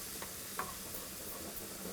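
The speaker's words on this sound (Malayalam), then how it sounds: "ഇതിലോട്ടിനി നമ്മൾ കൊത്തിയരിഞ്ഞു വച്ചിരിക്കുന്ന ഇഞ്ചി ഇട്ട് വറുത്തെടുക്കുക." Chopped ginger frying in oil on a very low flame while being stirred, a soft continuous sizzle broken by a few light scraping and stirring taps, quiet and close.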